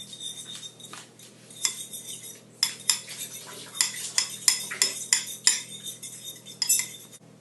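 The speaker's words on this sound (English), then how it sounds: "Next you have to beat all the eggs together." Eggs being beaten together in a bowl, a run of quick rhythmic clinks and taps of a utensil against the dish, close and fairly loud, with no voices.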